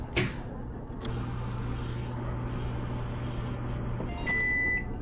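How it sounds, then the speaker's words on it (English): A virtual microwave hums steadily in the Job Simulator kitchen, with a low constant drone throughout, a few clicks near the start and a short high beep toward the end. "Close the door and let me get a shot of the microwave or run it."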